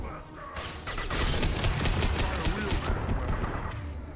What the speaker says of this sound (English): so I'll swap to the assault rifle.